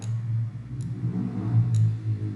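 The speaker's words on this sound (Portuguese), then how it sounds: "E esse barulho que vocês estão ouvindo é ele mexendo com moto" A motorcycle engine being worked on out in the street idles and revs in a steady low rumble with slight surges, heard from a short distance, with faint clicks and no talking.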